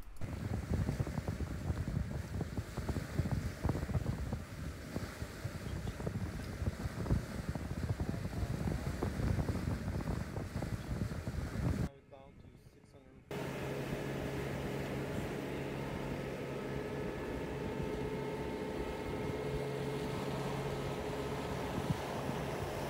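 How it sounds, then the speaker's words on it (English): A fast catamaran motors under engine power after racing off Grenada. A steady engine drone runs under wind rush and water noise, breaks off briefly in a near-silent gap, then returns as a smoother, even hum. "So for the next 2 hours it was just motoring back to the marina at the south side of Grenada"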